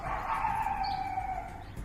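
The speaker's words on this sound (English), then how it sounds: "It sounds more like a dog howl." A long, steady howl resembling a dog's carries through an outdoor night setting, one drawn-out wavering tone that slowly falls in pitch, moderately loud over faint background hiss.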